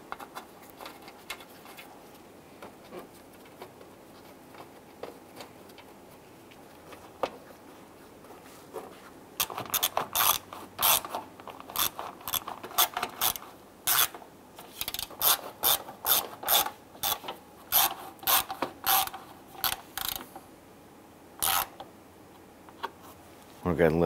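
A ratchet snugs down 10 millimeter bolts on a 1995-2001 Ford Explorer during a headlight bezel replacement, quiet handling at first, then bursts of close, rapid clicking in repeated runs.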